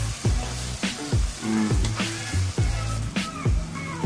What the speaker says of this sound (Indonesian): kita masukkan sambal baladonya ya. Selanjutnya kita aduk sampai merata ya, cabai, bawang merah, bawang putih